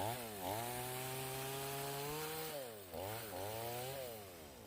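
A chainsaw engine revs and drones steadily, its pitch rising and falling in a couple of surges as it bogs into wood, close and loud; it revs normally, but with its new bar and chain it fails to bite into the wood.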